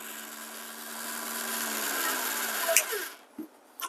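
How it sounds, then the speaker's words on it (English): A motorized 1zpresso hand grinder grinding coffee beans at low speed, a steady whirring hum with crunching that winds down and stops near the end, followed by a couple of light knocks. "with the motorized grinding effect, I can choose to grind the coffee at low speed and achieve a low RPM grinding"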